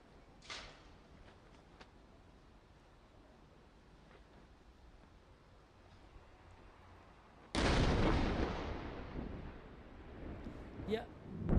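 Missile interception explosion over the Tel Aviv skyline, a sudden loud distant boom that rolls and rumbles for several seconds after a quieter stretch of faint sharp cracks.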